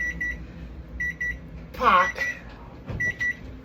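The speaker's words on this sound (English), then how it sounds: "So that's the timer you hear going off." A kitchen timer beeps in short bursts of repeated tones while a vegan 13-bean soup bakes in an oven, with a person briefly speaking in the middle.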